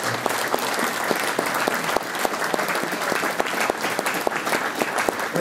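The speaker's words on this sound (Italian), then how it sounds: "secondo me con un applauso ci sta" Sustained audience applause at a talk and interview event, dense steady clapping from many hands with a few sharper individual claps standing out, held at an even level throughout.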